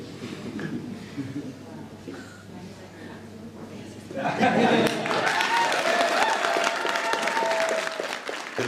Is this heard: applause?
yes